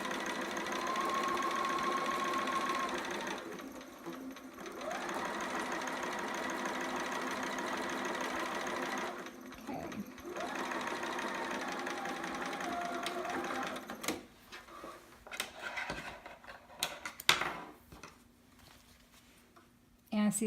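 A sewing machine fitted with a walking foot stitches stretch knit fabric for a romper, its quiet, rapid mechanical whirr running in steady bursts separated by short pauses.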